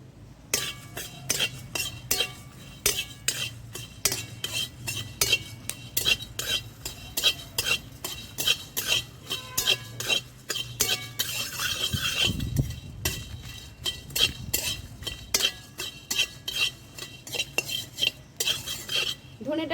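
Spices being fried and stirred in a pan for mango chunda, with a steady run of sharp metallic clinks and scrapes from a spoon against the pan over a low background hum, and no talk.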